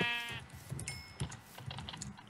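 Short bleats of a Minecraft sheep sound amid busy clicking and keyboard tapping.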